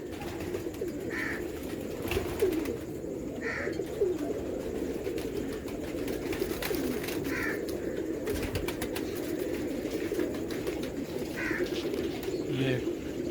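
Fancy 'Almari Wali' pigeons coo repeatedly in a loft, soft rolling calls recurring every second or two over a steady low murmur of birds, with no talk heard.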